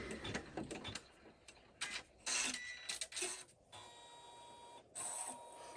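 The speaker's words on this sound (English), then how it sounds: "It's going to stitch, it's going to go around and around, make those beautiful satin stitches" An embroidery machine stitching satin stitches around an in-the-hoop quilted zipper pouch, its mechanical whirring and rapid needle chatter running in close, uneven bursts with brief pauses.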